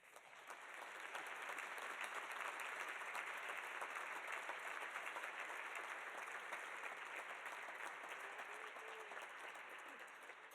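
Sustained audience applause fills an award luncheon hall for a National Philanthropy Day event, a dense, steady wash of many hands clapping that swells in quickly and holds evenly for about ten seconds before easing slightly at the end.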